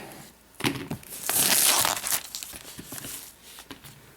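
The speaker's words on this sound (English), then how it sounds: "just cut the plastic" Plastic wrap on a boxed 2013 Apple MacBook Air being cut and pulled away, close crinkling and tearing with a louder rasping burst in the middle, then quieter rustles, and no talking.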